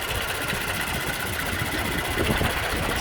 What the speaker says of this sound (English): I'll let you hear the engine running uninterrupted for a moment